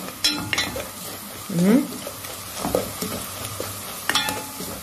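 Garlic, spices and salt sizzle in a pan while a spoon scrapes and stirs them in short, uneven strokes, close and fairly loud, with a brief rising tonal sound in the middle.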